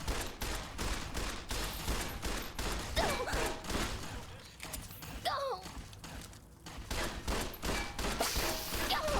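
Dense, continuous gunfire from the video game Fallout: New Vegas, rapid loud shots packed together with clattering impacts and a voice talking over it.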